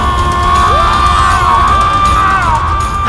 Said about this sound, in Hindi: पुकार नहीं, चीख है